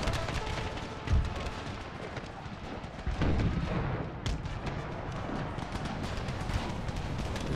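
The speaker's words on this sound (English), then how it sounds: "Some Union artillery firing over my lines." Union artillery in an Empire: Total War Civil War mod, firing in repeated deep booms over a continuous din of battle, with heavier blasts standing out near the start and middle.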